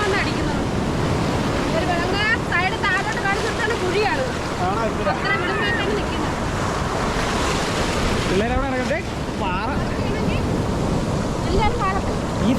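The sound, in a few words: sea waves breaking on the shore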